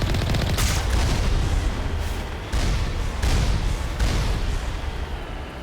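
Enemy gunfire on Virmire in Mass Effect: a dense, loud barrage of shots and heavy blasts, with several sharp bursts a second or so apart over constant rumbling battle noise.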